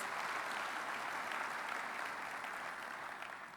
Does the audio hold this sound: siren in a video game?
no